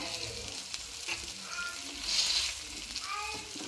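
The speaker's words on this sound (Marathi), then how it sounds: "पूर्ण वांगे चांगले रोस्ट करून घ्यायचे दोन्ही साईडनी" Whole brinjal roasting on a hot tawa gives a steady, soft sizzle and crackle throughout, close and moderately quiet, with faint scraping or stirring touches and no talk.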